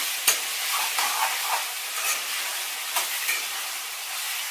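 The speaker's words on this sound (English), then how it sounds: "finally you have to put the fine chop chilies, green chilies, and stir it properly" Finely chopped green chilies being stirred into vegetables frying in a pan for spicy masala Maggi noodles, a steady close sizzle broken by a few sharp spoon scrapes and clicks against the pan.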